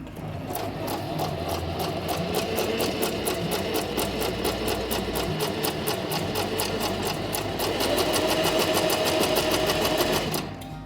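A Venecia sewing machine stitches at its longest stitch setting, a rapid, steady mechanical clatter of the needle running continuously for about ten seconds before stopping abruptly.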